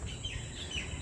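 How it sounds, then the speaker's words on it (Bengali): Myna and parakeet calls ring out from the forest near Vasai fort, a short burst of warbling, chattering bird notes at moderate distance over a low background hum. "শালকি পাখির ডাক, টিয়া পাখির ডাক"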